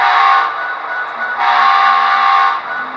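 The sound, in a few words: model locomotive long horn sound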